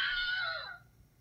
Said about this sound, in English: You know that scream sound they use in all the movies?